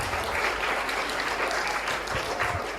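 Steady, dense applause from an audience at a school education seminar, a continuous wash of many hands clapping at moderate level with no pauses.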